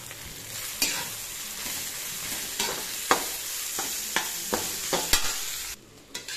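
Mango pulihora, rice tossed with raw mango seasoning, being stirred in a pan: a low steady background with a series of sharp scraping clicks of the spatula at irregular intervals, close and moderately loud, no voices.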